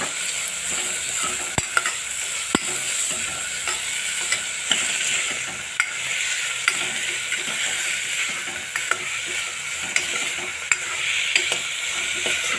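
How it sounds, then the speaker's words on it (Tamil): Onions sizzle steadily in a hot pan for chana masala while a utensil stirs and scrapes against the metal with occasional sharp clicks. "ஆட் பண்ணி அதையும் நல்லா கிளறி விடுங்க"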